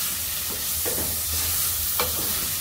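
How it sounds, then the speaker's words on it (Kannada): Turmeric, coriander powder and chilli powder frying in a pan, a steady close sizzle broken by a few soft scrapes of a stirring spoon, with no talking. "ಸ್ವಲ್ಪ ಅರಿಶಿನ, ಸ್ವಲ್ಪ ಧನಿಯಾ ಪುಡಿ, ಖಾರದ ಪುಡಿ ಹಾಕ್ಕೊಂಡಿದ್ದೀನಿ."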